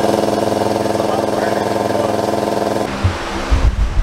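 A Husky 80-gallon air compressor with a newly replaced motor runs steadily with a loud, even mechanical drone for about three seconds, then cuts off, leaving a few low thumps and rattles.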